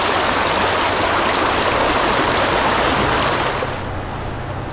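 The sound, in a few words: flowing creek or river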